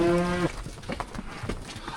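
Cattle on a farm give a loud, close moo right at the start, then fall silent beneath a jumble of scuffling and shifting farmyard noise.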